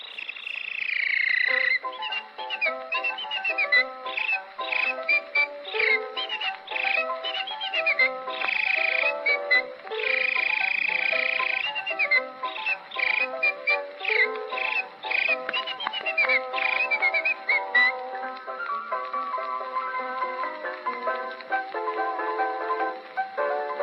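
A woman whistles in a birdlike imitation, fast warbling trills and chirps sliding from low to high, clear and close, with no talk.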